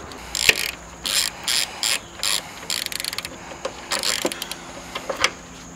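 A ratchet clicks in quick bursts while tightening the final front strut bolt on a 2004-2013 Mazda 3, the short runs of sharp ratcheting separated by brief pauses, close and clear with no talk.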